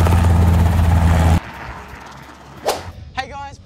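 A loud Robinson R22 helicopter rotor roar cuts off abruptly during an autorotation, followed by quieter rustling and a few sharp knocks and bursts.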